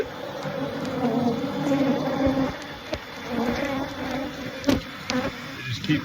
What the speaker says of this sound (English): In case you're wondering what Africanized bees look like when they're disturbed,